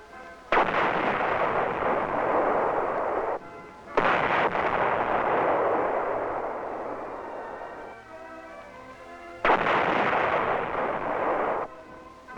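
An M60 tank fires its main gun at Aberdeen Proving Ground: three loud, booming blasts, each followed by a long rolling rumble that fades before the next shot lands.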